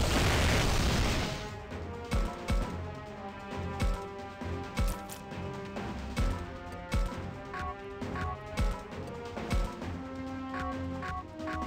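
Infinity Cannon attack in Digimon Survive: a bright whooshing charge-up gives way to a series of sharp booming impacts and bursts in an irregular rhythm over background game music.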